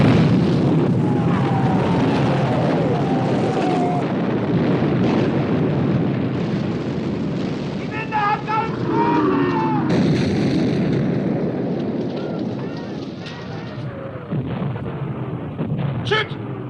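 Heavy naval gunfire from a WWII battle scene aboard warships hunting the Bismarck, with sustained booming artillery and rumbling blasts filling the clip, whistling shells and metallic clangs near the middle, and shouted voices underneath.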